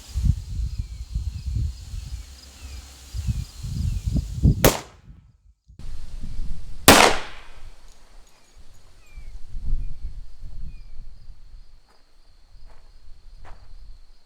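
Two sharp .45 ACP gunshots fired into clear ballistics gelatin, loud cracks spaced a couple of seconds apart over low shuffling and handling noise.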